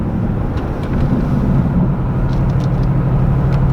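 A supercharged V8 with true dual exhaust cruises at normal driving speed, producing a loud, steady low exhaust drone heard from inside the car.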